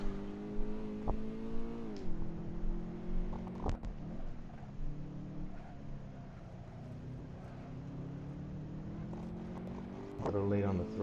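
A car engine in the racing game Assetto Corsa on the Akina downhill run revs and drops through shifts, its tone rising and falling steadily, with a sharp burst near the end; someone talks faintly underneath.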